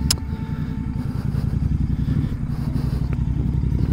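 A Royal Enfield GT 650 motorcycle rides over a rough, rain-damaged road, its engine giving a steady low thrum with rattles and clatter from the bumpy surface, close and continuous.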